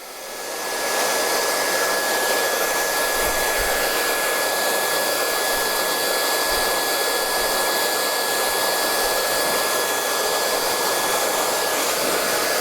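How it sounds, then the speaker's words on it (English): A hair dryer blows steadily at close range, a loud continuous whooshing roar with a faint high whine, running without pause. "I'm just going to run my hairdryer down."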